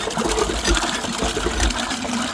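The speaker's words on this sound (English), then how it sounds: "that's the nasty water coming out." Murky well water gushing steadily out of a hand pump, a continuous rushing flow with low churning rumble throughout.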